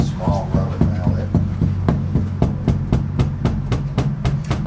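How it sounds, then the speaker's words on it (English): A small rubber mallet taps on a sand-casting mould in a quick, even series of sharp, close knocks, about four a second, with a brief voice at the start. "I think the perfect solution to that is going to be like a small rubber mallet"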